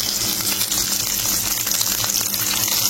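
Mutton sambar ingredients being sautéed with salt in a hot pan, giving a continuous close, dense sizzle and crackle with faint stirring underneath.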